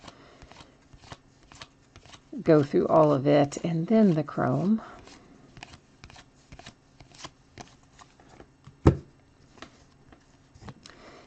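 Paper and trading cards are handled and sorted during a football and basketball card break, with crisp, rapid ticks and riffles of card stock throughout, close to the microphone, and someone talking briefly partway through.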